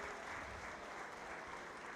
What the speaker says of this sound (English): Let's give these three kids a nice round of applause